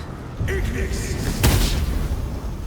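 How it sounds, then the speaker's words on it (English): A goblin's grenade goes off in Baldur's Gate 3 as a single loud, booming burst midway through the clip, set against a rumbling game background while a voice talks. "One of the goblins throwing some sort of grenade."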